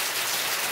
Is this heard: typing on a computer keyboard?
no